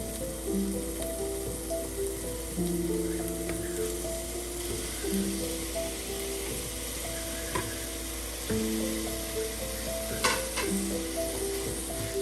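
Tomatoes and green chillies go into a pan with fried garlic and ginger, giving a steady sizzle with a few scrapes and clicks of stirring, close by and without speech.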